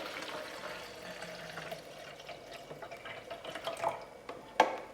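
About 500 ml of water is tipped out of a DeLonghi Nespresso machine's water tank into a container. The pour trickles and splashes quietly, with a few louder drips and a sharp splash near the end.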